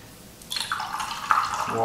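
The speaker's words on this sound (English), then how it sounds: "Wash the brush." A Chinese painting brush is swished and rinsed in a water dish, giving a short, close splashing and dripping that starts about a third of the way in and grows toward the end.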